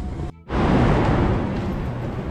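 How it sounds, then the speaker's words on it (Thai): A driverless Yellow Line monorail train in Bangkok gives a brief dip, then a steady loud rumbling whoosh of motion that holds close and continuous. "ก็คือไม่มีคนขับนะครับมันจะเป็นรถไฟโมโนเรลก็คือรถไฟรางเบา"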